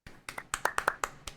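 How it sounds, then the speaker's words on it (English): A small, sparse round of applause at a live podcast taping, a handful of quiet distinct claps spread over about a second and a half. "A little round of applause"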